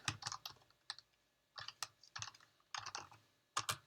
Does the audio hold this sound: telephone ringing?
no